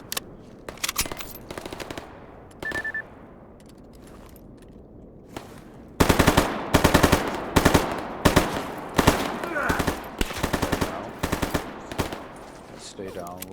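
Gunfire in the video game Stalker Gamma, a fight against bandits: scattered shots at first, then dense rapid bursts of automatic fire, loud and close, with brief footsteps and a beep between volleys.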